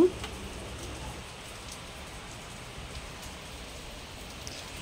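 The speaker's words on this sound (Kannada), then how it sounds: "ಇದು ಮಳೆ ಬಂದಾಗ ತೆಗೆದಿದ್ದು" Steady, soft rain patters evenly on a surface, a continuous faint hiss with no other sounds.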